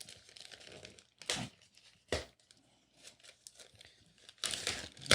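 Packing tape is torn off the plastic packaging of a skinny Panasonic remote control while unboxing a Yamaha A-S501 amplifier, heard as a few sharp, close ripping and crinkling bursts separated by quiet pauses.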